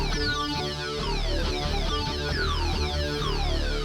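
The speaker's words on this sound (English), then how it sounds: "So you could take a sound like this one, which is a regular kind of synth sound" A regular synth patch on a Korg Wavestate keyboard plays steady, dense chords with rich harmonics and a repeating rhythmic pulse, loud and close throughout with no talking.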